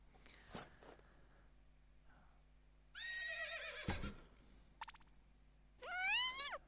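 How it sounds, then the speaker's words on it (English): A few synthetic game sounds in an escape room puzzle game, a clunk and a chime, then a horse's whinny rising and falling near the end. "this sword we can use to release this horse"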